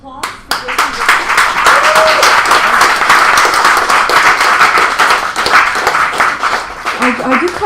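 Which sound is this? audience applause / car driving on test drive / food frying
audience applause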